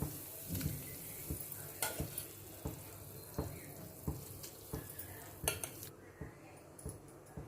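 Soaked jowar rava, rinsed twice and soaked eight hours, being stirred into boiling water in a pot for jowar kichidi, with repeated spoon clinks and scrapes against the pot over a steady bubbling, simmering wash.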